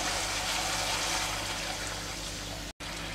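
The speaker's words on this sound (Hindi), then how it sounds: "तो अब इसमें हम पानी डालेंगे।" Water poured into simmering gravy in a cooking pan, a steady close rushing splash that continues evenly for a few seconds before a brief cut.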